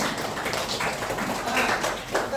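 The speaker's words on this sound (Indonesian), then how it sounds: "kita beri aplaus dulu untuk kelompok 2" Students at a junior high school (SMPN 1 Pangkajene) applaud group 2 in the classroom: a steady, dense patter of clapping lasting a couple of seconds, moderately loud, with talk mixed underneath.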